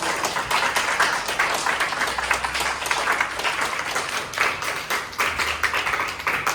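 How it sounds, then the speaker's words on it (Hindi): An audience at an Engineers Day celebration claps steadily for a guest, a dense, loud patter of many hands that keeps going without pause. "तो एक बार नरसिंह जी के लिए भी तालियां बजा दें।"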